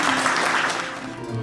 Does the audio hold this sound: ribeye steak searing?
no